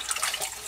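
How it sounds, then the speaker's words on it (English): Bore Saver treatment liquid being poured straight into a sump pump pit, a brief close splashing, running-water rush with no talk. "pouring the Bore Saver directly into the sump pump pit as well"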